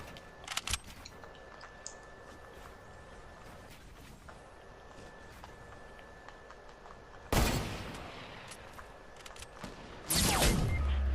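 Gunfire in a video game with a sniper rifle sounds as a few sharp, loud bursts: a quick early crack, then two heavier blasts later, over a low, steady background hum.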